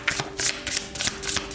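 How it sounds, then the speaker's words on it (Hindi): Tarot cards being shuffled by hand, a series of crisp riffling bursts in a steady rhythm, close and fairly loud, with no talking. "तो चलिए शफल कर लेते हैं।"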